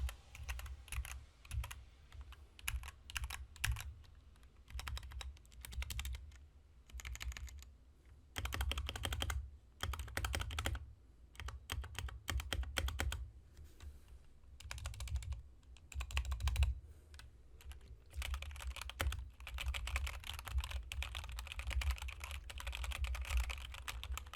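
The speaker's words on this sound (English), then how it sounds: "Here's a sound test right now if you want to take a listen." A custom mechanical keyboard is typed on up close, with bursts of rapid clacky keystrokes separated by short pauses and no talking.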